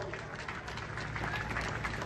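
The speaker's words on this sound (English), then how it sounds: "Let us all give a big applause" Crowd applause at a college graduation day ceremony in Moinabad, a dense continuous patter of many hands clapping at moderate volume with some voices mixed in.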